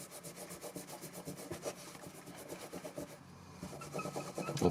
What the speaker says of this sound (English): we're gonna polish it with my new favorite pink polishing paste